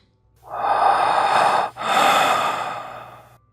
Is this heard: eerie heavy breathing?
yes